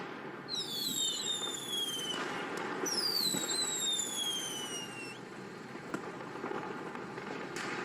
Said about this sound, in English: What is all that constant booming and banging noise?